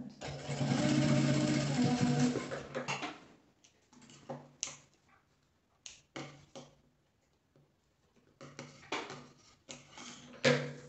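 Sewing machine stitching a fabric placemat with cutlery and cup pockets, a fast close whirring run for about three seconds followed by short stops and brief bursts of stitching, with someone speaking quietly between them.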